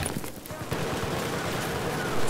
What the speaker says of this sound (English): It's explosions everywhere